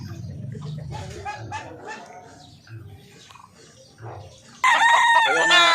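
Rooster on a Filipino backyard farm raising native chickens, crowing loud and close near the end after a stretch of clucking hens and people talking.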